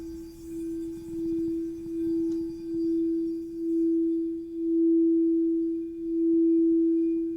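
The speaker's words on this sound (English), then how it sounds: "You're going to hear the sounds of the quartz crystal bowls today." Quartz crystal singing bowls in a sound bath meditation; a single pure, steady tone hums continuously, swelling and fading in slow, gentle waves with no talking.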